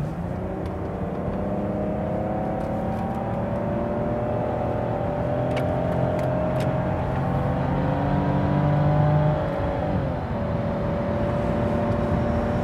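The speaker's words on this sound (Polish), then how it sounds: "Zobaczymy, jak kopsnie się ta E39 M54 B22 50-120 w trybie sportowym." BMW 520i E39 with the M54 B22 engine pulling from 50 to 120 in sport mode: a smooth engine tone climbing steadily in pitch through a long run, dipping briefly at a gear change, over road noise.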